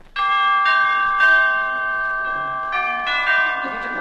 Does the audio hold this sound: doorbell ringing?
yes